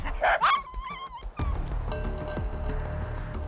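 Excited yelps and whines from Jindo dogs reacting to birds, a few sharp high cries up close at the start, then broad rumbling background noise with scattered thumps.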